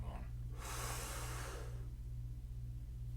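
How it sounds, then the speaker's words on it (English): A large, deep inhalation taken before playing the trombone, one audible breath lasting about a second, close and fairly quiet over a steady low hum. "we are going to take in a comfortably large breath, large enough that our rib cage is expanding"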